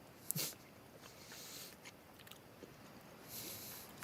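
Someone chews a chicken nugget close to the microphone. Soft, wet crunches come in a few quiet bursts, with the sharpest bite near the start, over a faint background and no talk.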